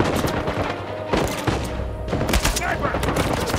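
Gunfire during a firefight in Uncharted 4, loud and nearly continuous bursts of shots with heavy thumps, layered over other game noise for a few seconds.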